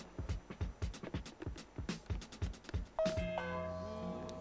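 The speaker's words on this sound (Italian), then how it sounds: "In questo caso prova a suonare il campanello." A Di.Fusion iLife video intercom rings with a tonal electronic call chime that sustains near and clear, after a run of sharp knocking or tapping sounds.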